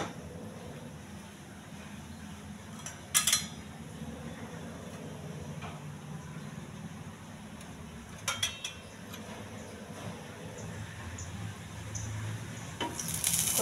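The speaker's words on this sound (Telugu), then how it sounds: "వెలిగించి పెనం పెట్టుకోవాలి." A flat griddle pan is set on a lit stove while vada batter is being prepared, giving a few sharp metallic clinks spread over a low, steady kitchen hiss, with no talking.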